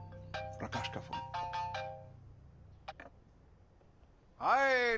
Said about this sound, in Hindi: प्रकाश का फोन।